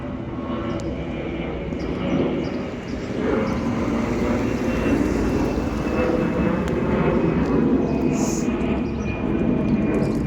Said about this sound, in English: Sorry about the planes.